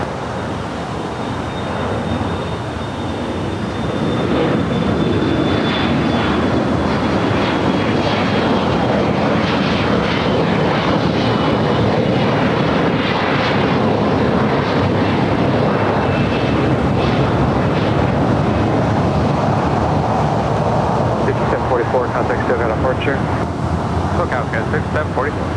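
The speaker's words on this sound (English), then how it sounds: "Just had a JetBlue A320 touchdown here on the south side." A JetBlue Airbus A320 lands on the south side runway at Los Angeles International Airport, a loud, broad rushing roar that builds after a few seconds and holds steady, with talk over it.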